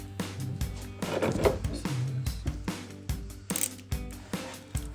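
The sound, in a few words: tightening bolt on Camaro rear wing spoiler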